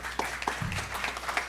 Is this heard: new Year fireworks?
no